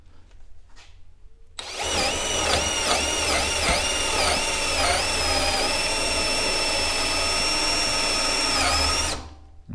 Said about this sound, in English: we're going to be using that drill setting with our drill in forward and our 3/8 inch bit